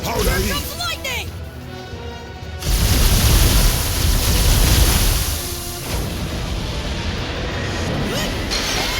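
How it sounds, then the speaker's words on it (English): A lightning attack in Infinity Strash: Dragon Quest strikes as a loud crashing, crackling burst after some shouted speech, then rumbles on with a roaring noisy tail and more battle clatter. "How did he? Lightning!"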